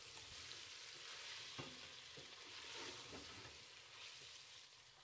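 Potatoes frying in a pan for junglee pulao, a steady faint sizzle with occasional scraping stirs of a spoon, quiet and continuous without any voices.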